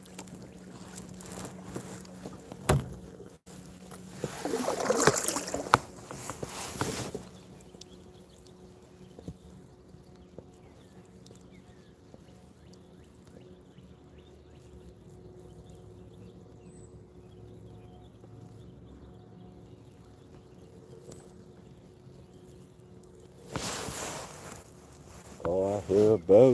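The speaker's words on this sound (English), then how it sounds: "Oh, I hear a boat." A boat passes on the water near a bluegill and smallmouth bass fishing spot, its engine rumble swelling in two loud surges, one early and one at the end, with a quiet, still lull between.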